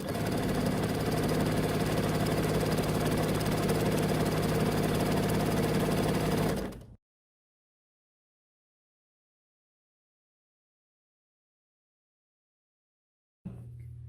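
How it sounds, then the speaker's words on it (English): A sewing machine stitching a seam with a quarter-inch seam allowance foot, a loud steady whirring motor drone for several seconds that stops dead, followed by a long silence and a brief restart. "So we're using our 1/4 inch seam allowance foot to sew our seam."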